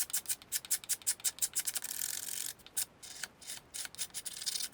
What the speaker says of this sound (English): This piece of sandpaper is pretty worn out, but you'll see how quickly it can take this little bit that's left on here off.